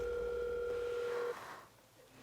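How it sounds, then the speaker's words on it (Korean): A telephone line tone from a call being placed in a Korean TV horror-story drama, a steady electronic beep held for over a second and then cut off, followed by faint room quiet. "작은 이모한테 전화를 거셨어요."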